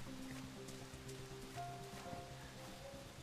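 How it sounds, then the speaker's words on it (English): Rain falls in the Dead Island Riptide game as a faint, steady hiss of patter, with soft sustained tones underneath. "It's rainy now."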